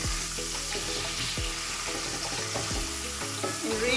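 Bay leaf, clove and cinnamon stick sizzling steadily in hot oil in a pan, a continuous close frying hiss with light stirring scrapes, no voices.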